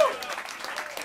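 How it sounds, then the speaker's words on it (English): Applause from a jazz club audience after a quintet's live set at Smalls, a short, fairly quiet wash of clapping with some mixed crowd noise, steady throughout. "clap for the Bruce Williams Quintet"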